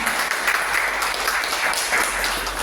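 A church congregation applauds with a steady, fairly even wash of many clapping hands that holds for the whole stretch, without talk.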